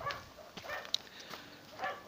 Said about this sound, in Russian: Опять это собака соседская.